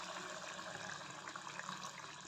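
Water pours into a pot of peas and moth bean curry in one continuous soft gushing stream, faint and steady with no break, no one speaking.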